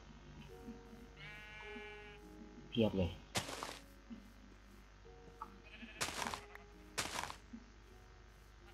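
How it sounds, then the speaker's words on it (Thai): Sheep in the video game Minecraft give a wavering bleat early on, followed by a few short bursts of game noise, while someone talks over the scene at moderate level. "เจอน้องแกะแล้ว"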